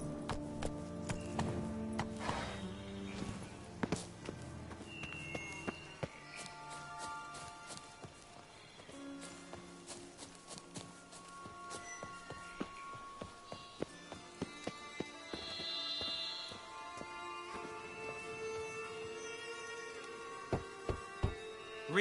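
A horse gallops in The Witcher 3 video game, its hooves clip-clopping in a quick rhythm under a game soundtrack, with a few sharp hits and some faint background sounds scattered throughout.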